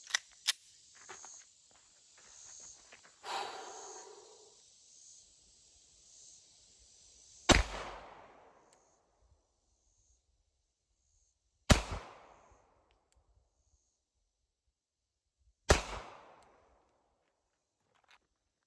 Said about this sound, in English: So we'll start off with standard 48. We'll shoot a few rounds.